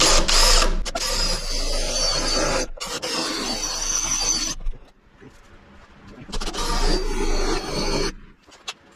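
Drill boring out spot welds on a first-generation Toyota 4Runner quarter panel, bursts of close whining drilling interrupted by short pauses, with a quieter gap midway before the drilling resumes.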